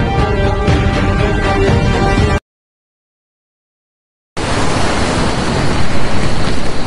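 Ocean surf rolls and hisses steadily along a beach at Min Bazar, loud and close, with no voices; the broadband wash cuts off into a two-second silence midway before resuming.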